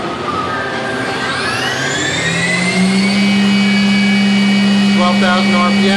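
Spindle of a Mazak 510C vertical machining center winding up to 12,000 RPM, a rising whine that climbs in pitch and settles into a steady, loud, high tone with a strong hum beneath.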